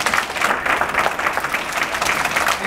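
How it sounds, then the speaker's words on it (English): Audience applause at a public library event honoring city council members and a board chair, dense steady clapping filling the room throughout with no talk. "please clap for them."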